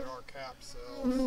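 A honey bee buzzes near a Flow Hive. The brief, quiet, wavering drone rises and dips as the insect moves around the hive, then grows a little louder at the end.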